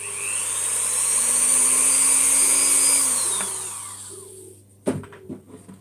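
High steady whine of a small rotary drill boring a 1.5mm hole in a model dog's knee joint, close and sustained for several seconds, then winding down, followed by a few light clicks and handling knocks.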